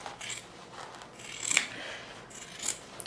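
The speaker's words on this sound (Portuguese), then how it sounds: "tô cortando aqui ao meio" Scissors snip through fabric during a sewing project, a few crisp rasping cuts close by with short pauses between them, no voices.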